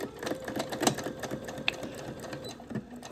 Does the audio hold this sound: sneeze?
no